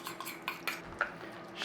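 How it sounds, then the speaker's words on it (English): A utensil stirs apple sauce with butter and cornstarch slurry in a pan, giving a series of light scraping clinks against the cookware, close and fairly quiet with no talking. "Stir that through."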